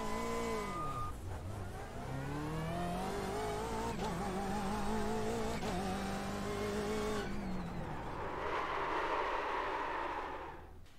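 Simulated BMW GT race car in iRacing, engine note sweeping down through the revs under braking with harmonic whine, then a sustained high howl and a broad rushing noise toward the end; loud, close and steady, no talking.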